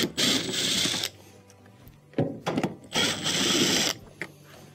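A power driver removing two T20 Torx screws from a washing machine dispenser, with two loud whirring bursts separated by short pauses and clicks, close by.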